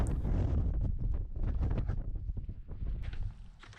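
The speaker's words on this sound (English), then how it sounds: "It's been very, very windy." Strong gusting wind roars across a winter mountain ridge in Scotland, buffeting the microphone with loud, continuous rumbling and no voices.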